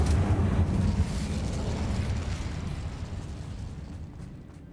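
Incendio fire spell cast in the video game Hogwarts Legacy, a loud whooshing burst of flame that roars at the start and then trails off into a long, rumbling fade.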